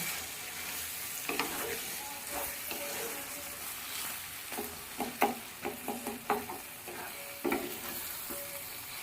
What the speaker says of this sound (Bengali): আবার ভালো করে সব কিছু দিয়ে একসঙ্গে কষিয়ে নেওয়া ভালো করে দেখুন কত সুন্দর রং হয়েছে খাসির মাংস